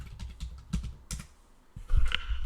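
A folder name tapped out on a computer keyboard, irregular clicks and keystrokes heard close, with a short lull before a denser flurry of typing at the end, no voices present.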